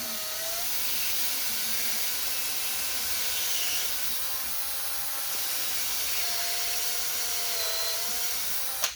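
A drill bit cuts through an acrylic instrument panel for a Cessna 140, a constant close whine with rasping friction that holds steady for the whole stretch, no voices.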